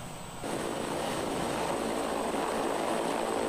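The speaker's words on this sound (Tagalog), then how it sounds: "Maulan ang panahon ng lumapag ang helicopter sa Tacloban City" A helicopter lands in rainy weather in Tacloban City in a typhoon-struck area. A steady, loud broadband roar sets in after a brief quieter moment and continues without a break. No one speaks.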